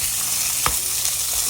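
Skirt steak searing on high heat gives a loud, close, continuous hiss, with one brief thump as the meat settles in the pan. There is no talking.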